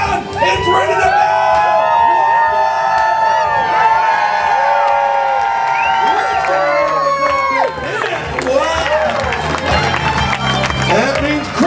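A crowd at a Canadian lumberjack show with log rolling cheers, whoops and shouts loudly and continuously, with children's voices and hollering mixed through the roar.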